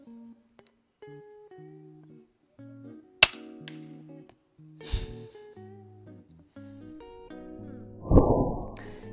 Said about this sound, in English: If you watch this pellet as it curls in, you'll notice that it is incredibly stable in flight.